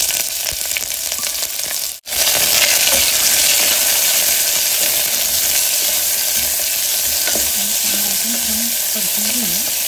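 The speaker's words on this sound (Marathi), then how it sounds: "आता आपण कांदा घालूया।" Onion added to hot oil with cinnamon, bay leaves, cloves and cumin for a soya chunk pulao, giving a loud, continuous close sizzle with stirring, a brief cut near the start and faint tonal sounds toward the end.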